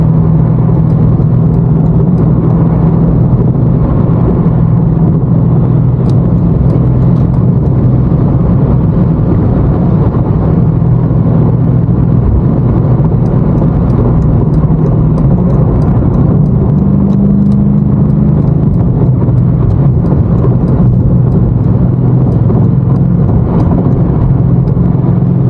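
A BMW M5 Competition with 617 hp driving fast through New York City traffic, a steady loud engine drone and road rumble with wind buffeting throughout, no talk.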